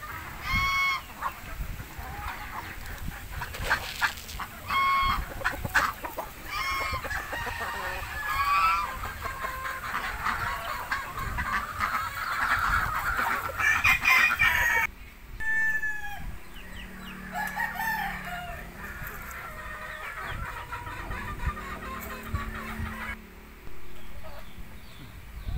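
Backyard flock of mixed-breed chickens, with a hen, ducks and a goose nearby, clucking and honking continuously, with a rooster crowing several times over the busy, layered calls and no talking.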